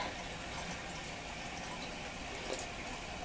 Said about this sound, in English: Then it fills up the bowl. It stops when the bowl's full.